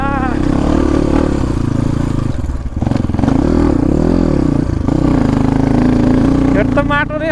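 An off-road motorcycle is stuck in deep mud on a village track, its engine revving loud and close in a steady, rough drone with brief dips in pitch, while someone talks over it.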